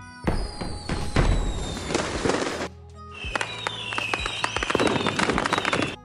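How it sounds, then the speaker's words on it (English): A fireworks sound effect from an editing library: a dense crackling barrage with whistles and booms, a brief pause, then more rising whistles and popping explosions, loud and close. "You can search for firework sound effects in the audio resources in the editor"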